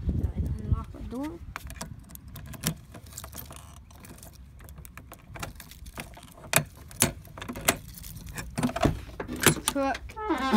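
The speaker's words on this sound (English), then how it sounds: "Let's unlock the door." A key clicks in the door lock of a 1998 Chevy Silverado 1500 pickup. Sharp, close metallic clicks and key jangles come at irregular intervals over about ten seconds, with a voice talking between them.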